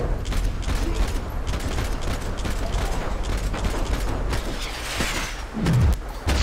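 Sustained gunfire from the Max Payne 3 video game fills the whole stretch with rapid, steady shots at close range, ending on a heavier swelling crash.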